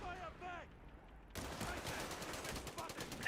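20mm frag gun firing in the Company of Heroes 3 video game: after a short lull, a dense rapid burst of explosive cannon rounds erupts and continues loudly to the end.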